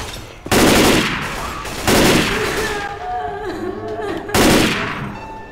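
Loud rapid-fire gun bursts in Left 4 Dead 2, three separate volleys spaced a couple of seconds apart, each a sharp, dense rattle that slowly trails off, with quieter game noise between them.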